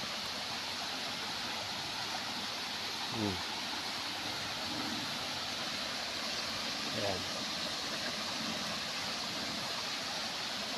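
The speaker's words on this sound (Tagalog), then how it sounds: "Ito yung sa may sapa eh." A stream flows steadily beside a field where weeds are pulled up during slash-and-burn clearing, its broadband rush constant and moderately close, with brief talk over it.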